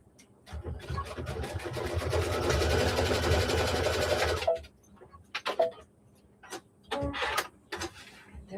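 A sewing machine stitches a quilt block in one steady, close run of about four seconds, followed by a few short bursts of stitching with quiet gaps between them.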